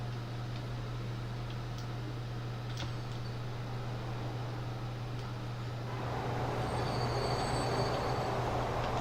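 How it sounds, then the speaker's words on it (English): Trains in the Transport Fever video game make a steady rumbling, rolling rail noise with a low constant hum, heard continuously and growing a little louder near the end, with no talking. "Getting down to ground level is kind of awesome, watching all these trains go."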